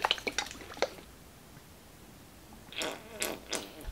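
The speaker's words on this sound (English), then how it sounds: "I got too excited about the fart noise" A small dirty paint-water cup gives short wet, squelchy fart-like bursts close up. The bursts come in clusters at the start and end, with quiet in between.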